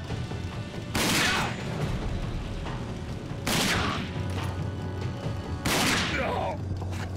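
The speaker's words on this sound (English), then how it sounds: "Okay, I'm just gonna shoot him." Gunfire in the post-apocalyptic shooter RAGE, with three loud bursts of shots spaced a few seconds apart over a steady background game soundscape.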